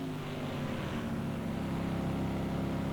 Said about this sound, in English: You could hear the likes of the Corvette just changing its revs ever so slightly